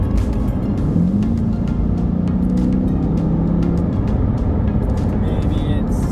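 A C8 Corvette in sport mode gives a steady, loud engine drone from inside the cabin, with a brief rising tone early on, over constant tire road noise.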